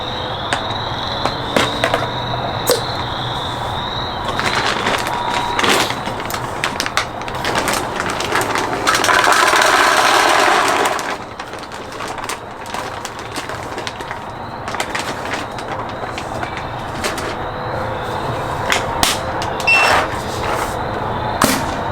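A Dye DSR paintball marker fitted with the flex bolt fires a rapid string of sharp pops, the shots clustered in quick bursts nearby, with a dense stretch of continuous shooting in the middle.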